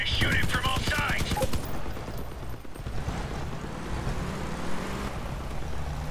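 Rapid bursts of gunfire in the vehicle combat game Crossout at the start, then rumbling engine and mechanical noise fill the rest.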